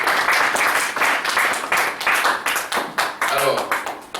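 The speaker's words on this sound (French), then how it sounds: "Acclamation pour le Seigneur." Church congregation applauding in praise, brisk rhythmic clapping in a steady pulse, loud and close, continuing throughout with voices mixed in.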